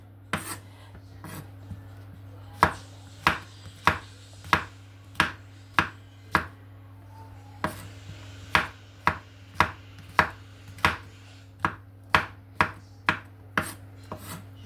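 Mushrooms being chopped quickly with a knife on a board, a fast, even series of sharp close taps with a brief pause partway through, over a low steady hum.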